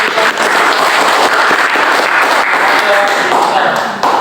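Applause from a classroom group after a discussion presentation, loud, dense clapping filling the whole stretch at close range, steady and without pause.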